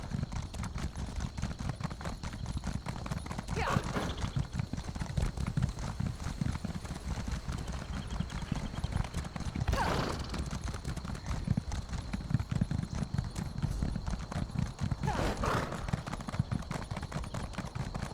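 Horse hooves clip-clop in a steady galloping rhythm while riding in The Elder Scrolls Online, close and continuous under dense game ambience, with a few brief swooshing accents spread through the stretch.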